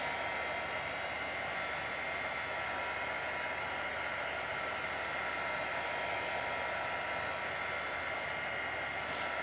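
A hair dryer blows steadily and loudly on a chalk-painted craft piece, giving a continuous close whoosh with no pauses and no talking.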